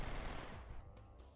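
Rapid automatic gunfire in a PlayStation 2 action game rattles out as a quick, faint burst that trails off within about a second, with no talk.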